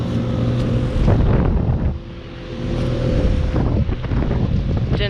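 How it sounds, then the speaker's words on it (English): A 2022 Trane XL16i 5-ton heat pump with an Alliance scroll compressor runs in heat mode, giving a steady close-up hum with tonal drone, partly covered by gusty outdoor wind rumble. "heat pump running in heat mode. Has an Alliance scroll."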